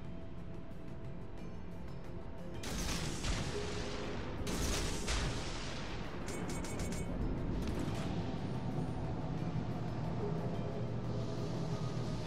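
Naval artillery fire in World of Warships: Legends: several heavy booming salvos crash out around 3 and 5 seconds, with further rapid volleys near 7–8 seconds, over a continuous rumbling battle bed.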